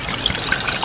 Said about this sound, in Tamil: ரசத்துக்கு தேவையான அளவு தண்ணி ஊற்றிக்கோங்க.